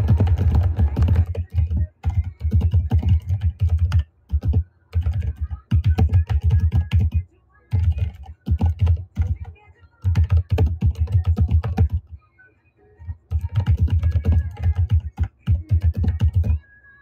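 Rapid typing on a computer keyboard, dense clattering keystrokes in bursts that speed up, with brief pauses between runs, close and fairly loud.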